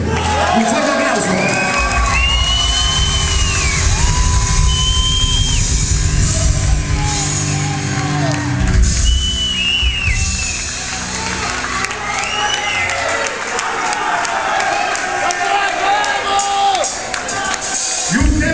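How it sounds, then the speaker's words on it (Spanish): A live audience at a Spanish-language music show cheers, whoops and applauds loudly, with shouting voices and whistles rising over steady clapping and a low rumble of music underneath throughout. "Un fuerte aplauso."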